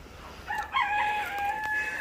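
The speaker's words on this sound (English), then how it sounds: "the roosters are getting ready for bed" A rooster crows at dusk, one clear drawn-out cock-a-doodle-doo rising and holding for over a second, fairly close over a quiet rural background.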